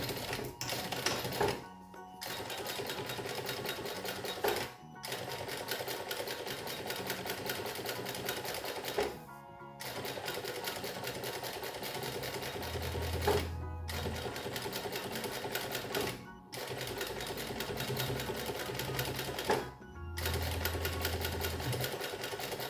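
A sewing machine stitches fabric along a zipper, its teeth set close to the cloth, while making a children's lunch bag. Loud, close whirring comes in long runs broken by short pauses, with a low hum now and then.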